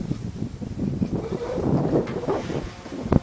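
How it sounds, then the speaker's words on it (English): Gusty wind buffets the microphone, a steady rumbling roar that swells and fades, with occasional sharper thumps near the end. "Oh, windy today."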